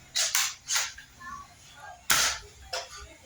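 Shotgun blasts in the shooter game Combat Master ring out as several sharp, cracking reports, three close together and then two more after a pause, each short and punchy.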